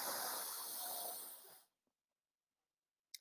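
A voice imitates a lawn sprinkler's steady whispering spray with one continuous breathy hiss lasting about a second and a half, then stops, leaving near silence.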